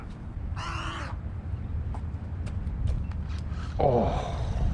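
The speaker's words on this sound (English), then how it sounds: "Got birds everywhere." Birds call around the Skyway fishing pier, with a few harsh, crow-like caws and shorter chirps scattered over steady outdoor background noise, fairly near.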